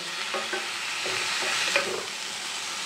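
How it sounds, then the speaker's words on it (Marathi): Chopped tomatoes being stirred and sautéed in a pan for tomato chutney: a close, steady oily sizzle with repeated spatula scrapes and knocks, no voices. "हे बघा, आता टोमॅटो घालून झाल्याच्या नंतर हे मी थोडा वेळ असं परतून घेत आहे"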